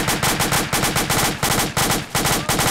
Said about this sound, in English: We have AKM fire south.